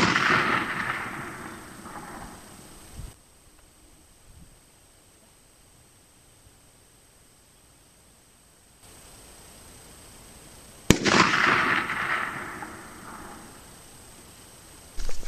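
Two rifle shots firing 150-grain flat-nose cast bullets at a 250-yard target, each a sharp, loud blast followed by a decaying rumble, spaced about eight seconds apart with quiet between.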